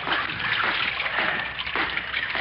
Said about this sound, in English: I'll get the sluice gate open now